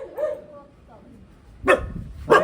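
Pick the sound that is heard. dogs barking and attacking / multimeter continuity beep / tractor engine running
dogs barking and attacking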